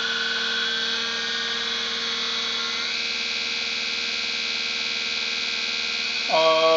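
Brushless DC motor spinning at maximum speed, around 1160 RPM, during a magnetic field experiment: a steady electric whine with layered tonal hum holds throughout, then shifts pitch abruptly near the end.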